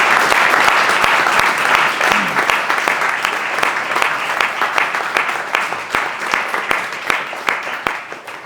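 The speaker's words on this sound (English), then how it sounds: "So just a little round of applause for Jonesy." Audience at a men's health gathering giving sustained applause, dense clapping with a few sharp individual claps standing out, gradually easing off over several seconds.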